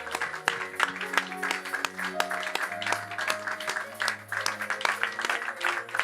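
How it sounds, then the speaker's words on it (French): A church congregation applauds loudly during a worship service, clapping spread across the room while sustained organ or keyboard chords ring underneath. "Et le peuple dit Amen en applaudissant très fort le roi de gloire"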